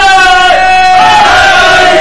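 Crowd at a majlis chanting a religious slogan together, a loud massed shout of voices with sustained tonal calling, close and filling the space throughout.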